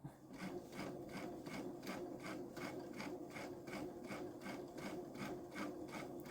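A Baby Lock Solaris 3 sewing machine with a roller foot quilts a pumpkin pillow front, needle thumping in a steady even rhythm, close, quiet and without talk.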